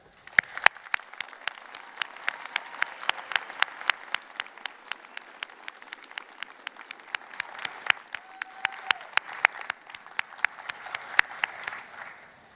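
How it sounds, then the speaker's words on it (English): Guests at a law school commencement ceremony receive applause, with sparse, sharp individual claps from a smallish crowd ringing out in an irregular scatter over a quiet hall. "Please applaud for all of the guests who have come today"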